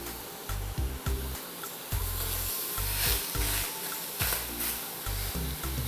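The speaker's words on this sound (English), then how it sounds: "I like to hear that sizzle. That sizzle." Loud, steady frying sizzle of pork steak in a frying pan, with crackling and spitting, close up and continuous, with no voices.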